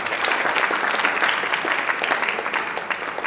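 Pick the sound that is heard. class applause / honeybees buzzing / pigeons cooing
class applause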